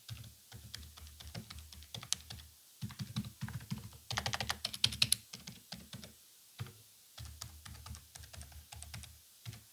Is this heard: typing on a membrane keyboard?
yes